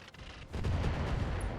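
Heavy thumper turret artillery fire in the RogueTech mech game, a deep booming blast swelling and rumbling low for over a second, loud and alone.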